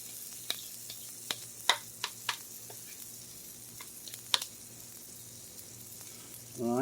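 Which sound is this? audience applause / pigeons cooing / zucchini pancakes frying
zucchini pancakes frying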